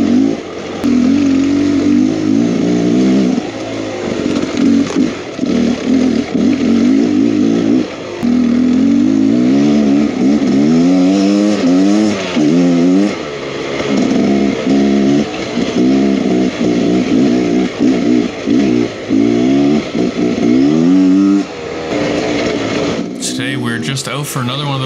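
A 2023 Beta X Trainer 300 dirt bike is ridden through a riverbed, its engine loud and close, revving up and down repeatedly in short bursts with brief drops between throttle pulls.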